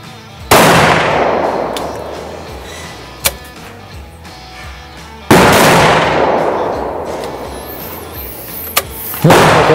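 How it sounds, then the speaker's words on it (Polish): Rifle shots fired through a scope at boar targets in a dynamic shooting exercise: two loud, sharp reports several seconds apart, each with a long decaying tail, plus a few fainter clicks and a third shot starting at the end. "to są pierwsze strzały mojej karierze ze strzelania z lunetą"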